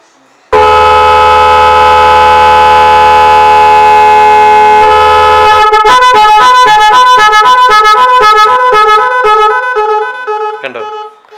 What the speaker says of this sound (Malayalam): ആദ്യം 2 ഹോൺ നന്നായിട്ട് അടിച്ചിട്ട് പിന്നെ പതിയെ ലോയിലേക്ക് പോവും